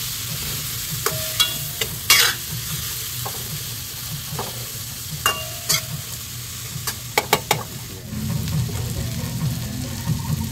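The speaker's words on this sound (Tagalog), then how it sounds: "So ginisa muna natin ang ating mga sangkap mga kasimpol." Ingredients sautéing in a pan for a catfish dish, with a steady sizzle and stirring and several sharp clinks of a utensil against the pan.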